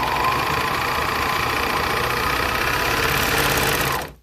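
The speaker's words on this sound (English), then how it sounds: "I just use my sewing machine over here." A household sewing machine runs steadily and close by, a continuous mechanical whir with no talking, while fabric is sewn during a dress resizing; the motor holds an even level for about four seconds, then cuts off abruptly.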